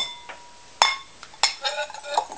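Fired ceramic leaf bowls unloaded from a kiln clink against each other in a few sharp, ringing knocks with short bright decays, close by and otherwise quiet.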